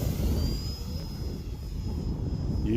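A steady, continuous engine and propeller drone from an E-flite Turbo Timber Evolution 1.5m RC airplane flying with a new propeller, heard at a moderate distance outdoors.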